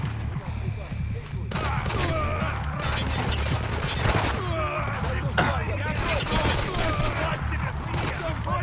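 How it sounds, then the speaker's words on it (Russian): Rapid, sharp pistol shots from a Desert Eagle in the video game Spec Ops: The Line crack repeatedly amid a chaotic firefight, loud and close, mixed with other gunfire and shouting voices. "Мощный дигл."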